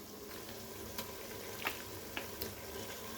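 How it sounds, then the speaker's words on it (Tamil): Washed chicken pieces go into a pot of hot oil with cinnamon, fennel and poppy seeds, a quiet steady sizzle broken by a few sharp crackles and spits, no voices. "அடுத்தது நம்ம கழுவி வச்ச சிக்கனை உள்ளே போட போகிறோம்."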